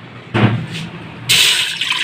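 Water pours into a pot of soaked chana dal for dal gosht, a loud short splash followed by a steadier rushing fill, close and alone.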